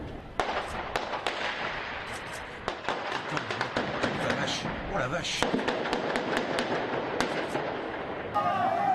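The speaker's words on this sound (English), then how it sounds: "A burst of heavy gunfire followed." Rapid cracks of heavy gunfire ring out in a dense, sustained burst at a Paris supermarket siege, sharp reports stacking over a noisy background with voices underneath.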